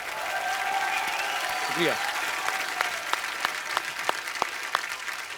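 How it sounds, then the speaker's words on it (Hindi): Scattered clapping from a small studio audience at a TV comedy show grows into sharp, spaced claps, while a voice speaks briefly over the start. "जोरदार तालियां एक बार हो जाए।"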